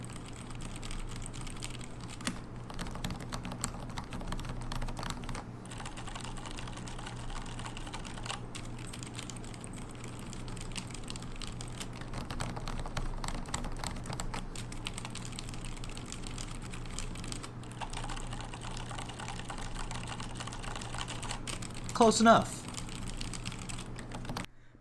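Typing on a Silent60 mechanical keyboard, a steady stream of muted keystrokes for about twenty-five seconds at close range, with a brief louder burst near the end and a few quiet spoken words.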